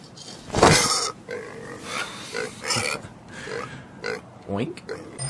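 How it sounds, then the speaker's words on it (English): A pig wrapped in a blanket gives several short, low grunts in uneven bursts, heard close and mixed with people talking. "Just wrapping a pig in a blanket."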